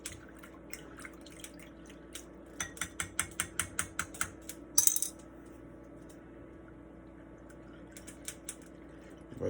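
Whisk clattering in a bowl while breaking up ingredients for smothered turkey wings, a run of quick, even taps that gives way to sparse, scattered clicks.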